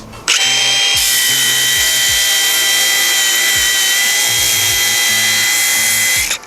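A Milwaukee M18 FSAGV125XPDB cordless angle grinder whines loudly and steadily for about six seconds, its pitch dipping slightly as it is pressed hard against the workpiece without stalling, with no voices.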